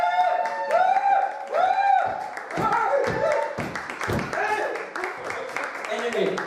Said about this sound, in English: Give him a proper good cheer